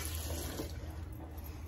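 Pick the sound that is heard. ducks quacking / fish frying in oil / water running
water running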